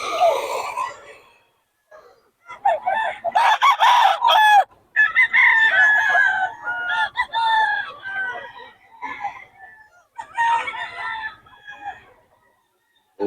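Young blue stag roosters at a poultry sale in Bocaue, crowing loudly and clucking in repeated close bursts, with brief quiet gaps between calls.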